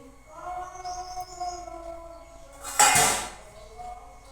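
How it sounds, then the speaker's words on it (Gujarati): A knife cuts through a dried mango seed with one sharp, loud crack-like clack near the middle, set against quiet background tones. "હવે આપણે તેને સુધારી લેશું ચપ્પુની મદદથી"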